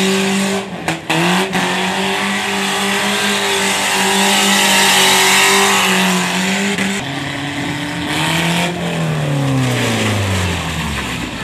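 Stunt cars rev hard at a rainy outdoor stunt show in a former factory parking lot in Gherla, where one loud engine holds a steady high drone and then pitches down as it eases off, with faint tire noise.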